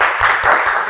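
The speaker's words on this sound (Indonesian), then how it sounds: "Tepuk tangan dulu." High school class clapping after a student presentation, a short burst of fairly loud, close, dense clapping.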